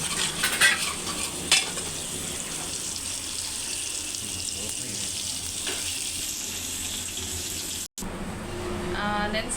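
Oil goes into a pan for pulao and sizzles, a steady hiss under clattering stirring, water-like splashing and a brief sharp clink early on, and a short drop-out near the end.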